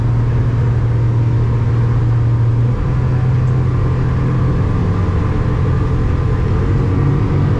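Twin Yamaha F250 EFI outboard engines on a Defiance Admiral EX offshore boat, a loud steady drone whose pitch steps up partway through as the revs rise, running alone without talk.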